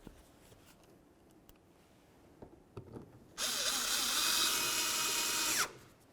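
A power driver runs a screw in to mount a side view mirror on a 2003–08 Toyota Matrix: quiet handling clicks, then a bright whirring burst lasting about two seconds, close by.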